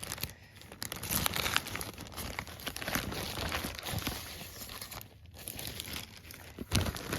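A plastic bag from a cross stitch kit is handled up close, with continuous crinkling and rustling that swells and eases in irregular bursts and is heard alone.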